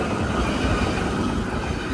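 Train at a station in New Zealand, a steady continuous rumble of rolling stock with faint wheel noise, close and even throughout with no voices.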